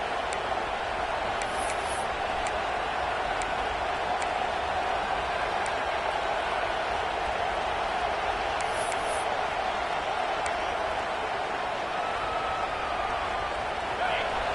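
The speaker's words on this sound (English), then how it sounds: "This crowd bringing the energy and noise early." Continuous, dense roar of a large crowd filling a stadium at a Mizzou vs Oklahoma game, steady throughout, with a voice speaking over it.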